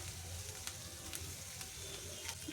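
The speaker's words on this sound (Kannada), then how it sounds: "ಚೆನ್ನಾಗಿ ಫ್ರೈ ಮಾಡ್ಕೊಳ್ಬೇಕು ಅರಿಶಿನ ಹಾಕೊಂಡ್ಮೇಲೂ ಕೂಡ" Masala with turmeric sizzling steadily in a pan while cooking capsicum masala, a dense, even frying hiss with faint scrapes, close and continuous.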